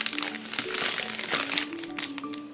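Packaging for a limited-edition Zelda: Tears of the Kingdom soundtrack set being opened, with loud, close plastic and paper crinkling and crunching that runs continuously for a few seconds and has no speech over it.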